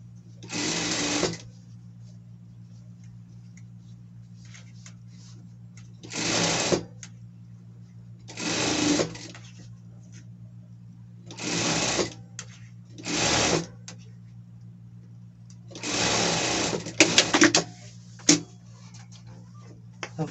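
A sewing machine stitches a seam on a costume in about six separate bursts of fast, buzzing needle rattle, each lasting a second or so, separated by quiet pauses over a constant low motor hum.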